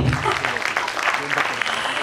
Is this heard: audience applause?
yes